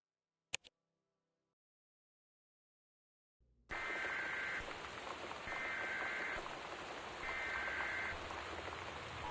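Heavy rain in the video game Gone Home comes in abruptly after near silence and a single sharp tick. It becomes a dense, steady downpour, loud and continuous, with a faint repeating higher tone.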